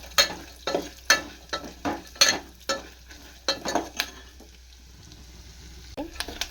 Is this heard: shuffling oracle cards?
no